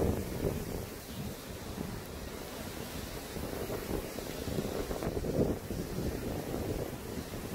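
Gusty wind blows through a debris-strewn yard with fallen tree limbs, a rough, rumbling roar buffeting the microphone in uneven surges, loudest toward the middle.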